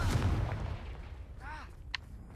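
A blasting spell fires in the Hogwarts Legacy video game, a loud burst with a rumbling low boom, followed by a ringing magical shimmer and a short bright crack.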